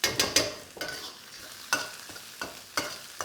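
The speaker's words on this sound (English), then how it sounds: "You can smell that belacan, this shrimp paste, frying off straight away." Belacan shrimp paste fries in oil as a utensil stirs it close up, giving irregular scraping strokes about every half second over a soft, continuous sizzle.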